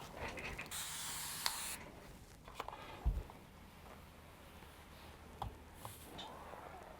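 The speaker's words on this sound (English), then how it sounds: "I'm going to go ahead and give it a spritz with my spray mister" A spray mister spritzes water onto quilting fabric in one hissing burst early on. Faint handling clicks and rustles follow.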